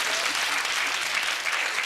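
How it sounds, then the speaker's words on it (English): Sustained studio audience applause at a TV game show, a steady dense wash of clapping from many hands throughout with no pause or talk. "big round of applause for the 7 who got that"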